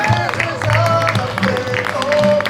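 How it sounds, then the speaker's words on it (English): A cheering squad welcomes hikers at the Fjällräven Classic Denmark finish line outdoors, with light clapping and cheers mixed with a voice and crowd chatter, moderately loud and close. "It's nice to have a cheering squad in there."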